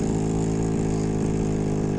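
A Goped scooter engine idling after a repair, a steady buzzing small two-stroke drone with a low throbbing pulse, continuous and close with no talking.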